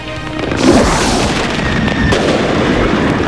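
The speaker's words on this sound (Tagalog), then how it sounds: "pasabugi ng mga pulis yung sari-saring iligal na paputok na kanilang nakumpiska" Loud, dense crackling bursts and booms of confiscated illegal firecrackers being detonated by police, continuous rapid overlapping pops with a rumbling roar, close by.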